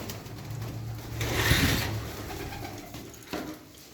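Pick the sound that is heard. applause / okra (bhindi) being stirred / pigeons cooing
pigeons cooing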